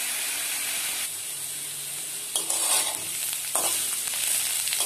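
Snake gourd fries in a pan over medium heat, giving a steady close sizzle and hiss that swells with a couple of louder bursts as the pieces are stirred.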